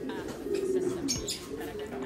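A pigeon gives a soft, low cooing call nearby, with faint background voices and rustling.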